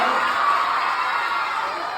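Schoolchildren at an Independence Day programme cheer and clap in a brief, dense burst of crowd noise with shouting young voices, moderately loud and fading slightly toward the end.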